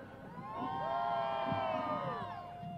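Crowd at a Veterans Day parade cheering and whooping, with rising whistles and shouts layered over a steady roar, loud and close for nearly three seconds.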